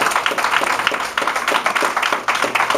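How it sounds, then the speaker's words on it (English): Scattered audience clapping at a mayoral candidate community forum, uneven and patchy, from a modest crowd rather than a large roaring ovation. "Give yourselves a round of applause."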